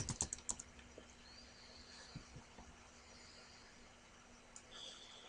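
Typing on a computer keyboard: a quick cluster of soft key clicks at the start, then a few scattered taps over faint background hum, quiet and close.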